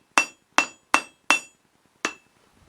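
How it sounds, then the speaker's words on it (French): Hammer strikes a metal bar partly on an anvil while forging a crossbow bolt: five sharp, ringing clanks, four in steady rhythm and one after a pause, each fading quickly, close and loud with no talk. "on vient amincir en frappant une fois de plus avec le marteau à moitié sur l'enclume"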